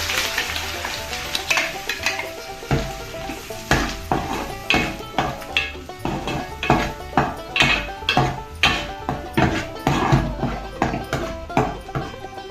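Green chillies and ground paste go into a pan for egg curry, with loud sizzling under repeated rhythmic scrapes and clanks of a utensil stirring against the metal pan.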